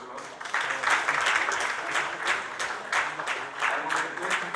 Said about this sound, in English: I would request the audience to please give a big round of applause.